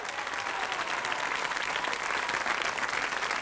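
Studio audience applauding at a French television entertainment show, a dense, steady wash of clapping that holds loud and even from start to finish with no break.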